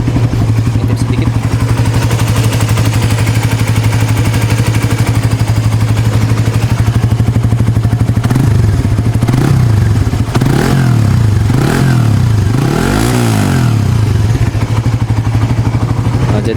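A Suzuki GSX-R150 150cc motorcycle engine idles close by in a steady, smooth low throb, with a few clattery surges and light revs toward the end.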